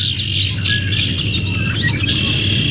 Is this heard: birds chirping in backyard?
yes